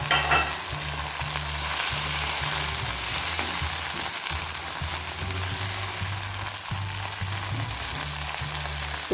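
Luffa (oyong) stir-frying in a pan, a steady loud sizzle with rhythmic scraping and stirring strokes repeating throughout, no talking.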